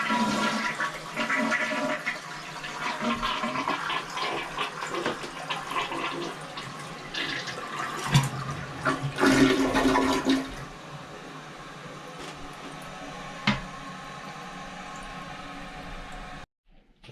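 A toilet flushing after its flange was replaced, a rushing swirl of water fairly close that surges and gurgles, then drains away into a quiet refill.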